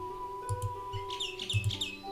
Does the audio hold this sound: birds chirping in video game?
yes